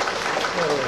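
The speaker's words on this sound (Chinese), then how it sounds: "再次热烈掌声" An audience applauds in a hall, a brief dense burst of clapping held at an even level throughout.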